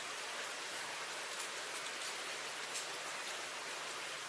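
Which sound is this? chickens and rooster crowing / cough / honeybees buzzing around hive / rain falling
rain falling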